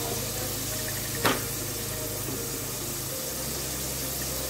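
Chicken curry masala sautéing in a pan, a steady low sizzle with a continuous frying hiss that holds evenly throughout, broken once by a brief scrape of stirring.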